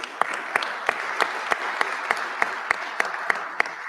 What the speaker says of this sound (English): please, please, please give yourselves a round of applause